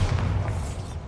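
A Bombarda blasting spell in Hogwarts Legacy, cast inside a cramped mine, going off as a single dull, booming explosion that rumbles and fades over about a second.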